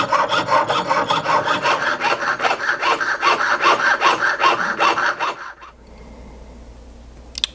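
An 18kt gold ring band is trimmed with a file or saw, giving steady, rhythmic rasping strokes, close and fairly loud, for about five seconds before the workshop falls quiet.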